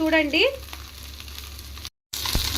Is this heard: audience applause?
no